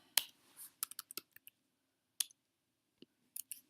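Fingers pressing number keys on a TI-84 calculator, a scattered series of small sharp plastic clicks in quick groups with short gaps, very close and quiet, no talk.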